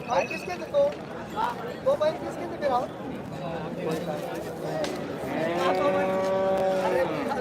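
Cattle, bullocks and calves moo repeatedly at a busy cattle and bullock market in Chalisgaon, several loud drawn-out calls near and far over a steady crowd murmur.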